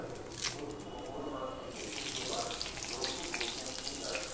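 Panch phoron spices and a torn bay leaf frying in hot oil in a pan for a papaya dish, a soft continuous crackling sizzle, fairly quiet and close, no voices.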